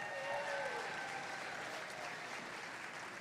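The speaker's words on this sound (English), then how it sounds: "Let's give them a big round of applause." Crowd at a district competition qualifier gives the volunteers a round of applause, a continuous, even wash of many hands clapping at a distance, fairly soft with no clear talk.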